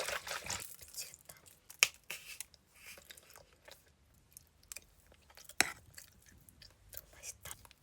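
Someone eats potato salad and sweet pumpkin salad up close, with soft, wet chewing and smacking that recurs irregularly, broken by a couple of sharper clicks.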